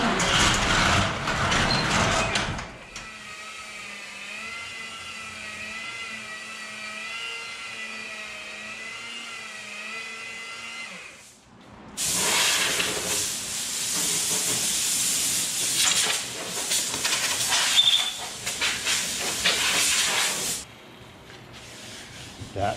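Quarter-sawn white oak for a guitar foot rest is worked with a power sander, loud hissing bursts of abrasive noise broken by a quieter stretch of whining machine tone, close by and without talk.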